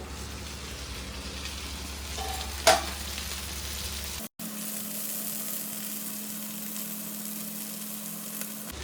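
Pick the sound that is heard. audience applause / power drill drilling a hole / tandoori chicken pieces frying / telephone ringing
tandoori chicken pieces frying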